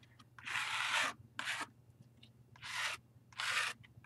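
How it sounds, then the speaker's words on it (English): Gold paint scraped across a mixed media canvas: four distinct rasping strokes, each about half a second long, close and fairly loud, separated by quiet pauses, with no talking. "I was going to scrape, I was just going to buff it with some gold, but I love the scraping."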